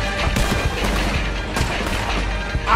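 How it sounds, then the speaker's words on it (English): Enemy gunfire in the Western video game Red Dead Redemption 2, a dense, continuous volley of overlapping shots and crackling impacts held at steady loudness throughout, with no talk. "He's shooting."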